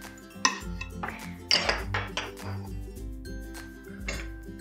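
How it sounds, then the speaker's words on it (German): Pancake batter ladled into a buttered frying pan for fluffy Palatschinken, with clinking of the ladle and pan and a bright metallic clatter, set over a steady hum and a faint background melody. "gieße ich mir dann immer einen vollen Schöpfer in die Pfanne rein"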